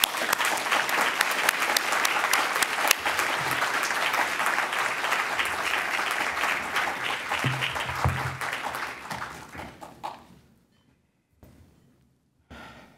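An audience at a cognitive neuroscience conference lecture breaks into sustained, dense applause that swells, holds for several seconds, then tapers off to near silence with a few scattered claps at the end.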